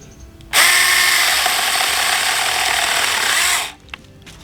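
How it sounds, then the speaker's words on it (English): A Ryobi mini chainsaw cuts through tree limbs, its small motor starting abruptly into a loud, steady high-pitched whine for about three seconds before cutting off sharply, close up. "let's see if I do it with a little more pressure with the chainsaw thing, or the mini chainsaw"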